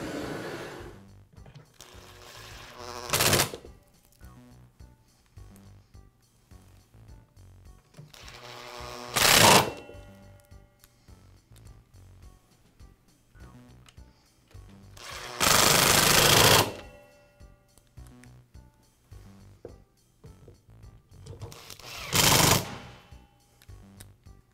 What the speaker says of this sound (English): Snap it into place, and I'll secure it with the screws.